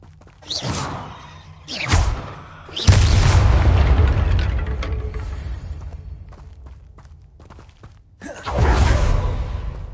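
Booming Confringo spell explosions in Hogwarts Legacy, several loud blasts separated by pauses, each with a whooshing burst and rumbling tail.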